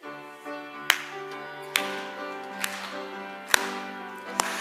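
A worship congregation claps in unison, giving a few sharp, evenly spaced claps about a second apart. The clapping sits over sustained singing and instrumental music.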